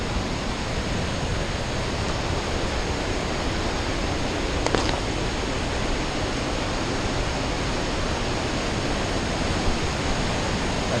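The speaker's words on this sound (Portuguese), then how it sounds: "Escuta o barulhinho aí da água." Water roaring at the Cachoeira da Fumaça waterfall in Minas Gerais, a loud, steady broadband rush that fills the whole stretch with no break and no voices.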